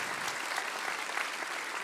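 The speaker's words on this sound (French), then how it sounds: "On peut l'applaudir." Applause from a conference audience at the Palais des congrès du Futur fills the whole short stretch, dense and even with no talking over it.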